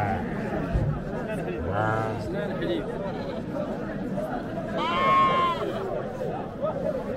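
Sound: sheep bleating at livestock market

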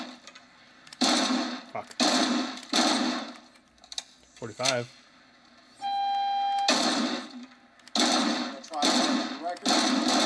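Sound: gunshots at a shooting range in video game Robocop Rogue City

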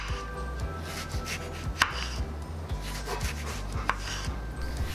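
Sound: slicing a lemon with a knife

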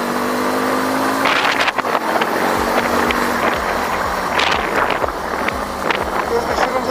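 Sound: Nevada 250 motorcycle downshift with throttle blip

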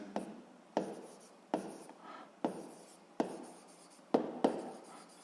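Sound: writing by hand

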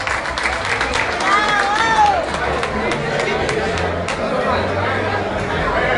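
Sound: audience applause at live music show

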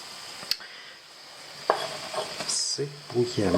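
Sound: bacon and onion frying in a pot

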